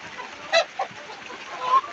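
Chickens on a local farm give a few short, faint clucks and squawks as a rooster is being caught, with no talking, over a soft hum of background noise.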